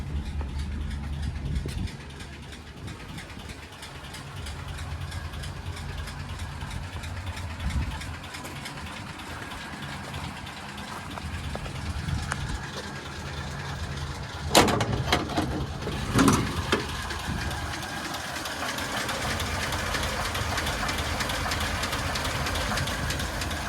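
A 1948 Ford F1 panel truck engine runs at a steady, rumbling idle just after starting, close and continuous, with a couple of sharp mechanical clunks partway through.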